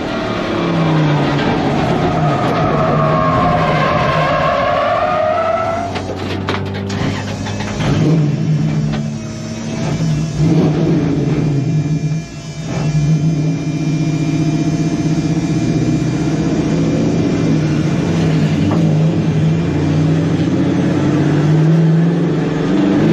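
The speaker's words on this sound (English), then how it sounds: "after a few slips comes the big spin out" A race car at a 24 Hours of Lemons endurance race at NOLA Motorsports Park spins out on track, its engine loud and close, revving and dropping through the slide, then droning steadily.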